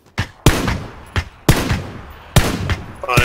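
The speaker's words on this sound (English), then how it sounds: "They're shooting from up top." Loud, close gunfire in PUBG, several sharp shots fired in an irregular rhythm with short echoing tails, no voices over them.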